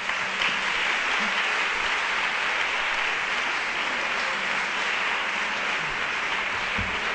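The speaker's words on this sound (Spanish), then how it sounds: "primero empezamos con un aplauso" Audience at a conference debate breaking into sustained applause, a dense, even wash of clapping that fills the whole stretch without talk.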